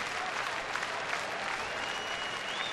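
A baseball crowd cheers and applauds steadily for the San Diego Chicken mascot at a Reds–Padres game in San Diego, a broad distant roar of clapping that holds for several seconds.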